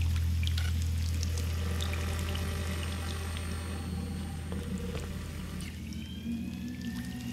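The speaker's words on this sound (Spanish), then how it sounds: "Esto es todo agua, ¿verdad?" Water flows continuously through a cave in the video game Scanner Sombre. It is a steady pouring, trickling wash over a low sustained hum, with no voices.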